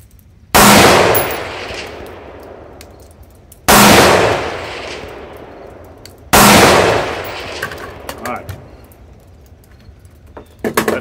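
Three loud rifle shots ring out outdoors, each with a sharp report and a long decaying tail, spaced a few seconds apart during preparation for a 3-gun match. Faint metallic pings of rounds striking the steel targets follow.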